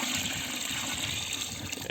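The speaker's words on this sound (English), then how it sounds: "So I'm pretty much adding enough water to have it all submerged pretty much." Water poured steadily into a container of homemade organic fertilizer, a continuous close rushing and splashing that keeps an even level for the whole stretch, with no talking.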